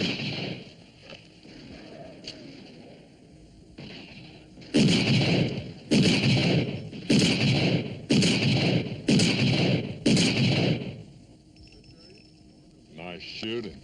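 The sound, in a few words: gunshots from target shooting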